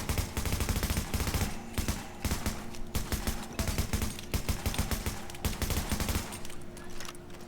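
AK rifle fired in the video game The Division, continuous rapid automatic bursts, loud and close, with brief gaps between volleys.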